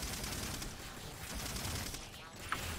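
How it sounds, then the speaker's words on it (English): Gunfire ricocheting in the video game Halo 4, a continuous dense spray of shots with sharp zings, fairly loud, and a single brighter impact near the end, with someone talking through it. "Check this out. The gun ricochets."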